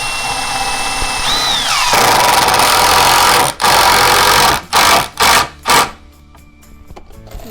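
Power drill driving 3-inch screws into 2x4 scrap wood, a loud close whine that revs and holds, then several short bursts of the motor as a screw is sunk, ending in quieter background.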